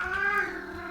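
A pet cat lets out a single drawn-out meow, fairly close and clear, lasting about a second with no speech over it.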